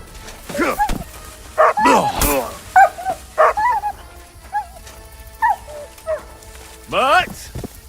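A dog barks in Kingdom Come: Deliverance II, giving several short, sharp barks and yelps in irregular bursts, close and fairly loud, with a voice talking between and over them.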